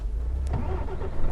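Truck engine in Euro Truck Simulator 2 multiplayer rumbles low and steady, then picks up with a brief rev partway through the short stretch.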